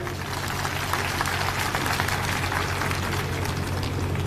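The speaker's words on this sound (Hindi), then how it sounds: "आप सभी के लिए एक बार जोरदार तालियां हो जाएं।" Applause from a crowd at a political party cadre camp meeting, a dense, sustained clatter of clapping at even loudness over a low steady hum, with no speech on top.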